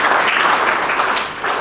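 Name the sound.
audience applause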